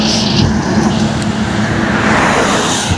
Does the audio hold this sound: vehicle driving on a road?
yes